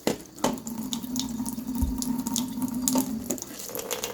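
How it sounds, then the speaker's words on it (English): Hot water from a household tap runs steadily over the back of a wax warmer, a close continuous splashing stream with a brief thump partway through. "I get the water nice and hot and I just run it over the back side of the burner here for a couple seconds"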